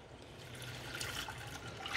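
Cold tap water pouring steadily into a pot while making Kashmiri pink tea, a continuous close trickling and splashing that keeps an even level throughout, with no voices.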